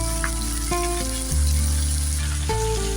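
Cut potatoes go into a hot pan for a paneer makhana dish, setting off a loud, steady sizzle of frying that swells when they hit the oil and continues throughout, with faint utensil clinks.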